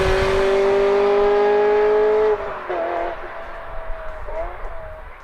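A Ferrari's 3.5-liter naturally aspirated V8 with five valves per cylinder holds a loud, sustained high rev, then drops and settles into smaller throttle blips, close and dominant throughout.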